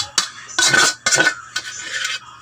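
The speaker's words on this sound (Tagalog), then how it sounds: "So ilalagay na dito sa kaldero guys. Isasalin yung mga karne na kinarito kanina." Cooked meat for balatong, a provincial mung bean dish, is tipped from a container into a cooking pot, giving scraping, clattering metal-on-metal sounds in several bursts, close and fairly loud with no talking.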